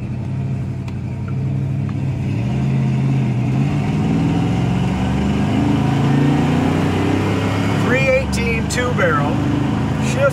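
A 1970 Plymouth Barracuda with a two-barrel engine cruises down the road at highway speed, its steady mid-pitched engine drone and road rumble filling the cabin while someone talks over it.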